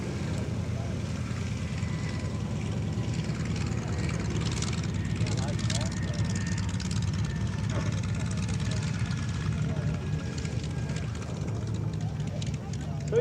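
A T-28 propeller warbird rolls out at a busy airshow, its low engine drone continuous beneath a commentator's ongoing voice over a public address.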